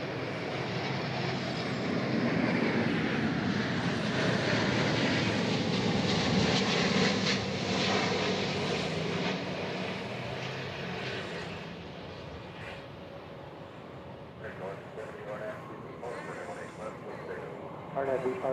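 An aircraft on the runway at DFW airport gives off a broad jet roar that swells and then slowly fades, with a person talking over it.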